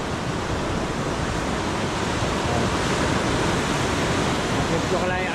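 Big sea waves roll and crash in a continuous, loud, broadband roar with wind buffeting close to the microphone and no clear breaks.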